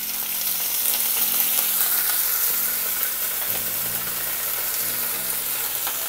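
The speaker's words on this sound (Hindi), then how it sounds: "इनको भी अच्छे से मिला लेंगे और करीब आधा मिनट हाई फ्लेम पे सेकेंगे" Mushrooms sear over high flame in a restaurant-style chilli mushroom pan, giving a loud, steady sizzle and crackle that runs throughout, with a low tonal hum underneath.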